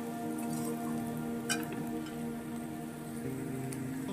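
Gourd peels frying in a pan on a home stove, a steady soft crackling sizzle throughout with a brief clink partway through, no voices.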